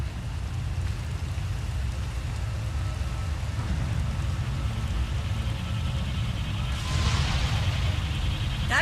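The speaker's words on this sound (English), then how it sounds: "The lightning strikes can be deadly out here." Steady, dense rain fills a stormy outdoor area in Star Wars: The Old Republic, with a crackling burst near the end suggesting a lightning strike. It sounds loud and continuous, with no voices.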